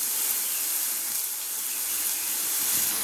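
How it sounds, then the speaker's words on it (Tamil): Tomatoes sautéing in a hot pan for a white peas gravy, a continuous close hissing sizzle at steady loudness with no talking. "தக்காளி போட்டு ஆட் பண்ணிக்கிறோம். இதை போட்டு நல்லா வதக்கிக்கணும்."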